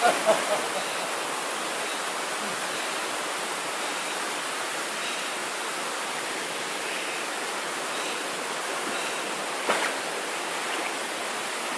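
Falling water at Ghora Mar Waterfall roars in a steady, broadband rush that fills the whole stretch, with a brief knock or two near the start.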